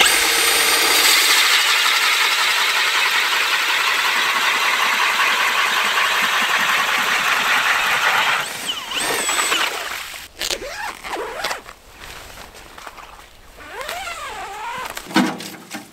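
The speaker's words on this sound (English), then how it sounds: "Before we head up to the hot tent, I'm gonna drill a hole for some drinking water." A loud motorized drill grinds steadily through lake ice for several seconds, then cuts out, leaving scraping, knocks and scattered movement noises.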